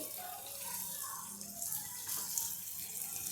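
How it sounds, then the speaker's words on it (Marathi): A little water pours steadily into a pan of cauliflower already boiled with turmeric and salt on a high gas flame, a soft continuous trickle heard close. "मी थोडंसं पाणी टाकते"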